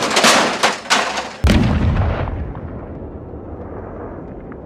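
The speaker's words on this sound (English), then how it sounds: "Выстрел!" Artillery gun firing amid a barrage, with several sharp blasts followed by one heavy boom whose rumbling echo fades over a few seconds.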